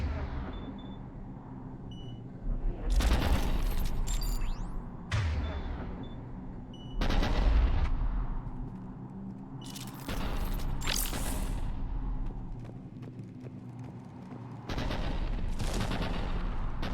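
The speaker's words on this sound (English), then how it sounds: "The cannon fire is clearing the way." Heavy cannon fire in a Tuchanka battle in the game Mass Effect 3, several loud booming blasts with long rumbling tails arriving every few seconds over a steady battle drone.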